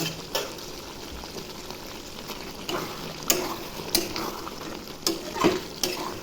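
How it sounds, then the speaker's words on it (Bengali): Chicken frying with garlic, tomato, carrot and potato in a pan, a steady close sizzle broken by several sharp scraping stirs of a utensil, no talking. "এবার রসুন, টমেটো, গাজর আর আলুটা দিয়ে ভালো করে ভেজে নেব"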